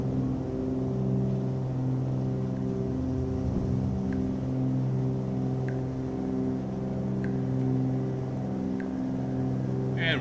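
A Cessna 414 twin piston engine drones steadily during climb out in Microsoft Flight Simulator, a constant loud hum with layered tones and faint periodic clicks throughout.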